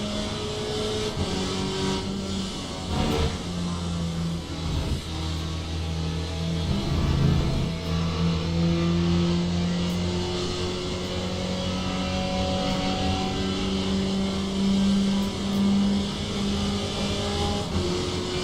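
A GTE race car engine in the Le Mans Ultimate racing game, a loud, continuous snarling drone that rises and falls through gear changes and revs, with tire noise beneath, sustained for the whole stretch.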